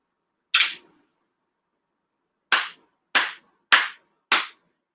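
Five sharp, crisp hand claps in an otherwise silent hall at a Konkō Grand Ceremony, one clap followed by a pause, then four evenly spaced ceremonial claps in quick succession.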